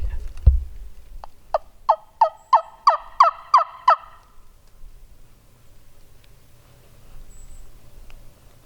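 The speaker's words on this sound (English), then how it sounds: "He just gobbled again." A wild turkey gobbles in the Tennessee woods, one rapid rattling burst of about eight sharp notes after a thump, clear and fairly close, followed by quiet outdoor ambience.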